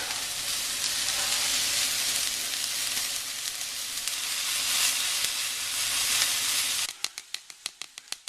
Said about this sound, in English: So we just let them go ahead and sizzle for you.